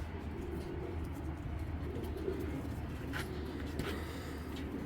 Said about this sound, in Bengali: এই কবুতরটা অস্থির একটা মাদি